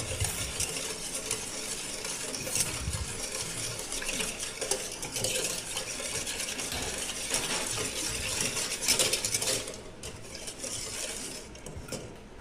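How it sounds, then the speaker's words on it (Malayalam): Mug cake batter being mixed by hand, sugar dissolving into milk, with a steady run of spoon scraping and clinking against the mug, close and fairly busy, continuing without a break and with no voices. "നമുക്കത് നല്ലതായിട്ട് മിക്സ് ചെയ്തെടുക്കണം പഞ്ചസാരയെല്ലാം പൂർണ്ണമായും പാലിൽ അലിഞ്ഞു ചേരണം"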